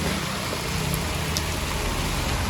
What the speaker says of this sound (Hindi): तेज़ हो गई है बारिश,